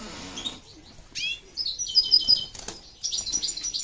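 Pigeons flapping their wings, with several short bursts of wingbeats mixed with soft chirps and tweets, close by and fairly quiet against a calm background.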